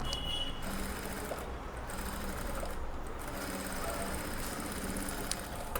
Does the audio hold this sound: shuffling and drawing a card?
no